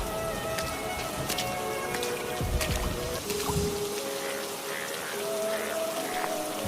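Steady rain pours over a monsoon-day market, a dense, even hiss of drops striking surfaces with a few heavier splashes, loud and continuous without speech.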